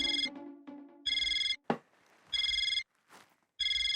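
A telephone rings in repeated electronic bursts, each about half a second long with short gaps between them, close and clear. Softer tonal sounds and a brief clatter fall in the gaps, and there is no talking.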